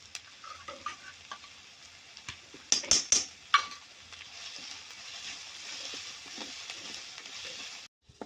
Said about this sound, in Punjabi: ਦੋ ਕੁ ਮਿੰਟ ਪਿਆਜ਼ ਭੁੰਨ ਲਾਂਗੇ